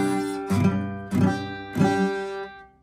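Three slow, uneven guitar chord strums from a beginner player ring out one after another, close and moderately loud, with gaps between.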